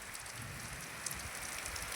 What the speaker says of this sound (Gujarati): ધીમી ગતિએ વરસાદ ચાલુ થયો છે